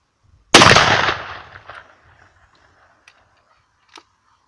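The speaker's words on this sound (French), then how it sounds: "Ok, on va tirer dans le papier." An Ildiz 12-gauge over-under shotgun fires its top barrel at a paper target with a 32-gram load of number 6 shot: one loud, close blast with a decaying echo, followed by a couple of faint clicks.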